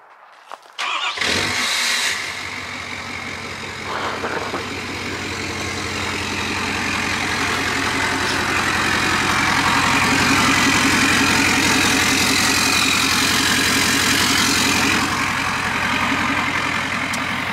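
A truck engine with no exhaust system cranks over and settles into a loud, raspy, unmuffled idle, a rough throaty rumble that stays steady and close for the rest of the clip.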